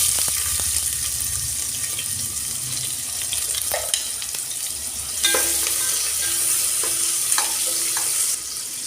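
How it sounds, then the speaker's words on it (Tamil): Sliced onion frying in hot coconut oil inside a cooker: a steady close sizzle with occasional scraping stirs, no voices. "எண்ணெய் நல்லா காஞ்ச உடனே ஒரு பெரிய வெங்காயம் நறுக்கி சேர்த்துக்கலாம்"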